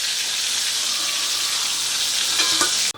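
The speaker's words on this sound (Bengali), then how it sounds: "পটলগুলো দেখুন ভাজা হয়ে গেছে, এর থেকে বেশি ভাজবো না, হালকা করে ভেজে নিয়েছি।" Pointed gourds fry in oil with a loud, continuous sizzle that ends sharply, with faint clinks of stirring near the end.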